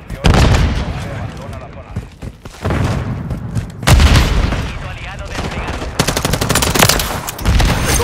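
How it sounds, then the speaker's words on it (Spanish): A grenade blast amid dense automatic gunfire in a Modern Warfare 3 team deathmatch on the Terminal map, with loud booms and rapid rattling bursts throughout and voices calling out over the combat. "¡Ahí va una granada!"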